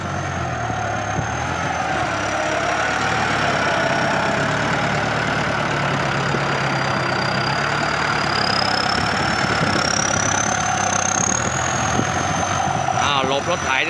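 A tractor engine drives across a small, soft-soiled rice paddy, giving a steady, close mechanical drone with a constant hum that runs unbroken throughout, with no voices.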